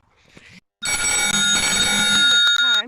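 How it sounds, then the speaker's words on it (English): A telephone rings with a sustained electronic bell tone, loud and close, preceded by a brief stretch of faint background sound during an outdoor walk. "Sorry, got a phone call."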